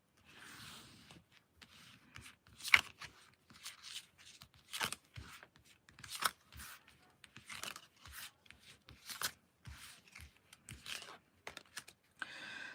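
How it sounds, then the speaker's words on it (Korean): Tarot cards being drawn and handled on a table, a quiet series of soft taps, flicks and rustles in an irregular rhythm, close and alone with no talking. "두 분의 관계 흐름에 대해서 한번 카드를 뽑아보도록 할게요"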